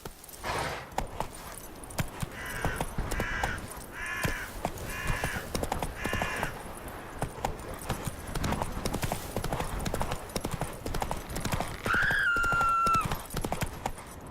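Roach, Geralt's horse in The Witcher 3 video game, gallops with fast, rhythmic clip-clop hoofbeats. Near the end comes a short neigh and a crow's caw over the game's ambience.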